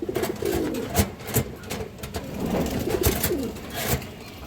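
Indian high flyer pigeons at a farm, one a black-headed male, give soft repeated coos in short bursts, fairly close, with some light background noise.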